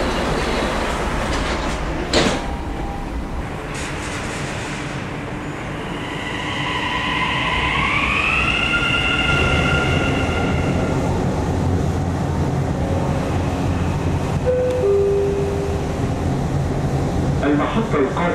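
Dubai Metro train running along the Green Line, heard from the cab: a steady rumble and rolling noise with a rising whine as it accelerates, a few clicks and brief squeals over rails, continuous and fairly close.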